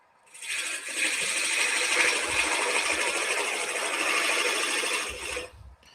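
A wood lathe turns a workpiece mounted off-center while a tool cuts a small pad and chamfer, giving a steady, close whirring cut. The cut rises in after a brief pause, holds for about four seconds, then fades out.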